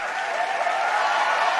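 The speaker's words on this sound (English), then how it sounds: "Everybody, give us a round of applause." Applause for a podcast guest, a brief dense wash of clapping from a small group, steady and moderately loud with no distinct individual claps standing out.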